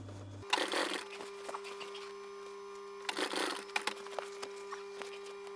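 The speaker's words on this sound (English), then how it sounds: "So it gets sewn on to the right side of the fabric, so the flat bit is facing down." A sewing machine stitches a plastic strip onto the right side of seat cover fabric for a VW T5 Transporter, running in two short bursts of rapid stitching over a constant low electrical hum, with scattered faint clicks between.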